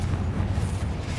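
Confringo fire spell detonating in Hogwarts Legacy: a sustained, heavy low rumbling blast that holds steady for about a second, loud and close, with no talk over it.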